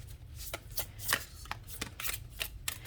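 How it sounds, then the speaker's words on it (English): Tarot cards are shuffled close by, with a quick series of soft riffling slaps and flicks in an irregular rhythm. "So as you shuffle it, certain cards, multiple cards do kind of stick together."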